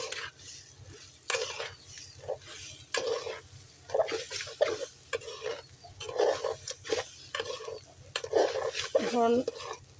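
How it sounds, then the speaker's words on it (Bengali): Whole cardamom pods and a bay leaf for pulao are stirred through hot fat in a pan, with scraping, clinking strokes and a soft sizzle in irregular bursts. "এখন নাড়তে হবে।"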